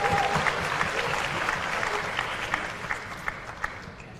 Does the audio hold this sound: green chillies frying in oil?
no